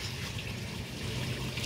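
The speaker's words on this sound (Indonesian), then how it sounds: "air terjun atau waterfall di kolam ini" Water from a pump-fed waterfall pours steadily into an outdoor fish pond, making a soft, continuous splashing and trickling wash with no voices.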